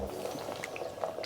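Water boils in a pot for melting cacao butter, a soft, close bubbling with small pops and gurgles, steady and alone.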